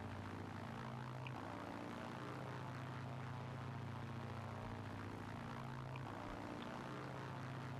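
A propeller plane rolls off an aircraft carrier in the World War II video game Battlefield 1943. Its engine gives a steady, loud droning roar that holds without a break.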